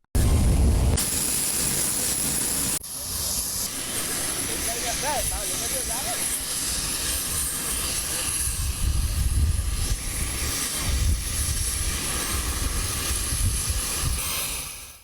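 An Indian military aircraft landing in Colombo carrying relief supplies produces a loud, continuous engine roar that fills the whole stretch, with a steady broadband rumble under it.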